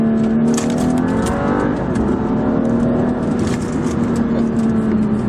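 A BMW F30 335i with a six-speed manual holds a loud, steady engine drone with a smooth, sustained tone and no talking.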